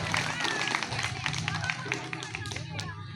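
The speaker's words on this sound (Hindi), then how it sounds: "विनय सिंह चेरो जी के लिए भी एक बार जोरदार ताली से स्वागत करें" Scattered applause rises from the audience at a tribal conference in Latehar, Jharkhand. The claps sound patchy and moderately close under a busy crowd murmur, and someone speaks over them.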